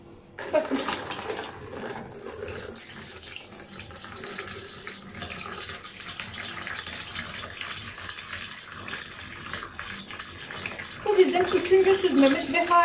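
Water drains and pours from cracked green olives being strained in a kitchen, a steady running splash lasting several seconds, ending with a brief clatter.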